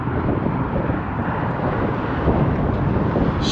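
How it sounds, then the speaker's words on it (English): Steady, heavy wind roars across an outdoor microphone, a continuous broadband rumble with no pauses, near and loud, while a car sits parked nearby. "hope y'all can hear the wind"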